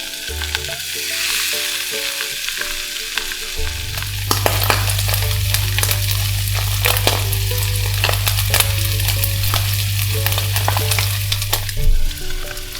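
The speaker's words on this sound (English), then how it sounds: "Fry salmon." Salmon fillets frying in a thin layer of oil in a pan over medium heat, a loud continuous sizzle with crackles and pops, quiet background music and a low hum underneath.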